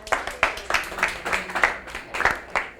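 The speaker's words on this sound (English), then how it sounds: "Round of applause." A group of children at a school morning-show taping clap together in a short round of applause, close and lively, with uneven bursts of claps and no talk.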